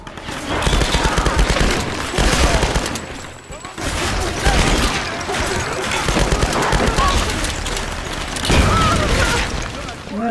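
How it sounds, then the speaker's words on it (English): Bursts of video game gunfire in a tomb-raid mission, dense rapid volleys and booming shots rolling on almost continuously at close range, with voices talking over the shooting. "they're shooting at one of us"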